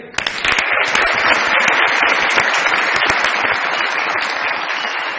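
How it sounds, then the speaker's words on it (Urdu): Dense, loud audience applause in a television comedy studio, a continuous wash of many hands clapping at once, sustained and even throughout. "ویمن امپاورمنٹ کے لیے بہت ساری تالیاں بجائیے"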